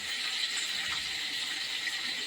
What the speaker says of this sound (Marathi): थोडस पाणी टाकलं त्याच्यात